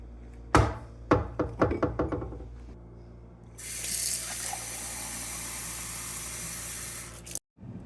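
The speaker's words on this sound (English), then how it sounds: "Okay, let's get some water." A few quick clattering knocks, then water runs steadily from a tap for several seconds before cutting off abruptly.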